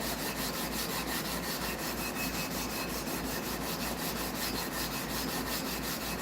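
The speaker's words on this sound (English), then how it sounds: "when you sand, are you sanding evenly across the board to get the low spot down here?" Steady rhythmic abrasive rubbing of sandpaper across a guitar fretboard during fretboard planing, continuous broadband scratching strokes at close range with no talk.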